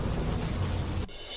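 Heavy downpour at the Sundha Mata pilgrimage site in Rajasthan, a dense, steady roar of rain that cuts off abruptly near the end, leaving a thinner hiss.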